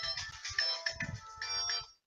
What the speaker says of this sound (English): Why the hell's my phone ringing?